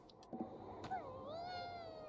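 A cat meows in Ghostwire: Tokyo, a drawn-out rising and falling call following a couple of short clicks, moderately quiet over a low background hum.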